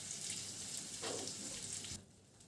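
Potato pieces tinted with food colouring fry in a pan for chicken khichuri, giving a steady, faint sizzling hiss that stops abruptly near the end.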